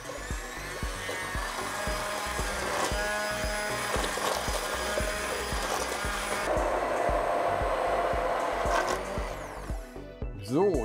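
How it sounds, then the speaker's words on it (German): A hand blender purées a pot of fresh tomato soup, giving a loud, steady, close motor whir with rapid rhythmic clatter. The whir shifts pitch partway through and cuts out near the end. "So, ich püriere mir das jetzt mal eben schnell hier über."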